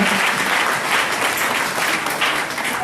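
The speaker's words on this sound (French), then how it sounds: "Applaudissez très fort pour le Seigneur Jésus." A worship congregation bursts into loud, sustained applause, a thick continuous roar of clapping from many people that stays strong throughout with no speech over it.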